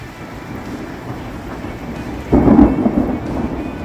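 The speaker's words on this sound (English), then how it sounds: "now we've got this torrential downpour, which is good because we need the rain" Torrential downpour with thunder during a motorcycle tour in Saskatchewan, steady heavy rain hissing throughout, with a deep rumbling thunder roll surging midway and slowly trailing off.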